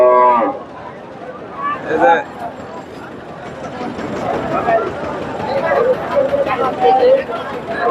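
Cows moo loudly a couple of times near the start at a cattle market in Bogura, then more lowing mixes with a busy crowd of people talking in the background.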